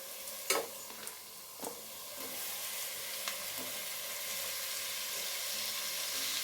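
Mutton mixed with biryani masala sizzles in a pan while a spoon scrapes and stirs it, a few sharp clinks early on giving way to a steady, close frying hiss.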